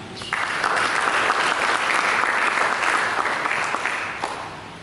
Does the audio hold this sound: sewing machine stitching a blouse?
no